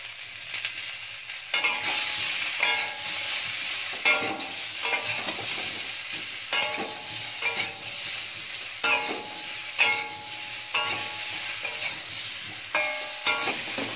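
Small new potatoes dusted with turmeric fry in a pan, a steady sizzle broken by periodic scraping stirs of a spatula every second or two, close up and with no voices.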